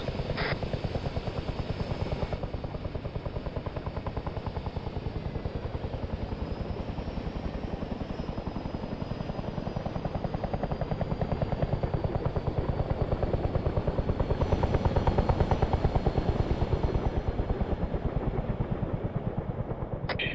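Steady rotor chop of a helicopter in Arma 3 runs continuously for the whole stretch, a loud, pulsing thrum that swells slightly midway, with no speech over it.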